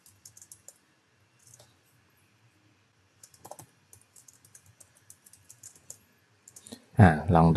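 Keyboard clicks in scattered short bursts on a computer keyboard while C++ code is typed, quiet and close, ending in a loud burst of speech.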